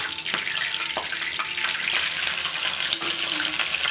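Mustard seeds crackle and pop in hot oil in a pan, sharp snaps scattered over a continuous, fairly loud frying hiss.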